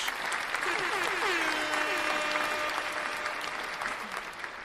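Applause plays for the winner of a liminal horror gaming challenge, a continuous wash of clapping with a rising, sweeping tone layered over it, steady throughout.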